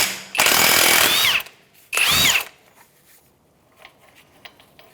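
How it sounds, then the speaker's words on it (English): Impact wrench fitted with a 36mm socket removing the front axle nut on an Acura MDX, two loud whirring bursts, the first about a second long and the second shorter, close by, then quiet clinks. "With a 36mm socket on an impact, we're going to take this off."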